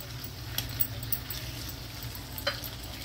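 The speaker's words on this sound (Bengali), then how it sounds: "এখন এবারে পনিরটা ছেড়ে দিই।" Paneer cubes frying in a spiced masala in a pan, a steady close sizzle with scraping stirs and a few sharp clinks of a utensil against the pan.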